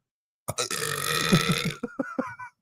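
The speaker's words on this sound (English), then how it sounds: "How does that smell like when you burp like into your fucking mask like that?" A loud, drawn-out burp right up close, lasting over a second, followed by a few shorter gulping burps trailing off.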